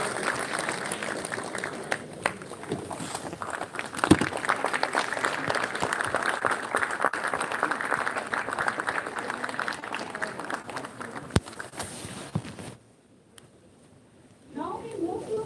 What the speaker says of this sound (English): A round of applause for Dr. Dinesh Singh, sir, and everyone please give him a